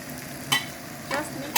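Half-moon zucchini pieces and cauliflower sautéing in a pan, a soft sizzle broken by three short bursts of stirring and scraping, nearby and fairly quiet.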